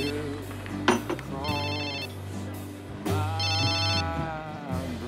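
A telephone rings through the line in two separate bursts while a call is placed in a German soap-opera scene. The rings are moderately loud and sit over steady background music.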